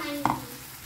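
Masala paste goes into a hot pan with a soft splat and then a faint, low hiss of sizzling that fades slightly over a brief moment.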